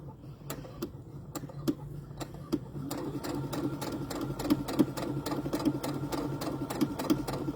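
A sewing machine stitching fabric slowly around a curve, steady rhythmic ticking of the needle over a low motor hum, with the pace settling into regular stitches after the first few seconds.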